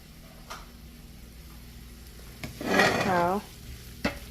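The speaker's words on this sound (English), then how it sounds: "Now, give it a last final stir." Cooked bok choy being given a final stir in a pot on a switched-off stove, a short scraping burst in the middle with a few faint clicks of the utensil before and after.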